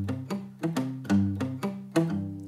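A palm-muted electric guitar chord is picked string by string, giving a quick run of short, choked, thumpy notes that die away fast between picks, with no other sound.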